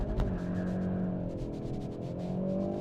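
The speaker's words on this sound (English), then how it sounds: "we're going to see what the 0 to 60 times really like" Hyundai i30N in race mode launching hard from a standstill to 60 mph, its engine rising in a steady strained drone with a shift or two, loud and sustained from the cabin.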